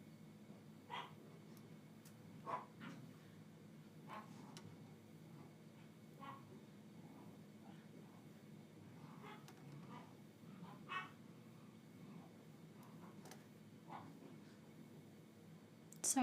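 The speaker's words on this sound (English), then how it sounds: "I hear my dogs downstairs fighting." Several pet dogs fighting in a room downstairs, heard from a floor away as faint scattered barks, yips and whimpers over a steady low household hum.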